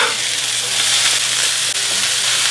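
Burger patties cook on a hot surface, giving a loud, continuous sizzle and hiss with no talking over it.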